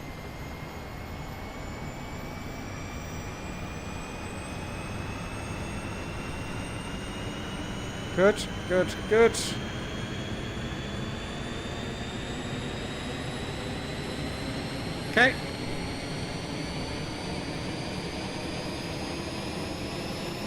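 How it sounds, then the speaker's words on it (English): A steady, loud broadband jet engine roar fills the rear cabin of an Airbus in Microsoft Flight Simulator, continuous throughout, with someone talking briefly over it and a few short clicks. "Let's have a quick look at the sounds there in the back."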